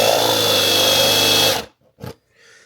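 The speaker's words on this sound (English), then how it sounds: "see how that's kind of sanding out a channel?" Power tool sanding a channel into plywood, a loud, close, steady whine with a grinding edge that cuts off abruptly, followed by a brief second burst and a faint tail.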